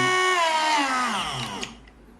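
Parkside PFBS 12 A1 cordless multi-grinder spinning down from high RPM, a loud close whine that falls steadily in pitch and fades to silence.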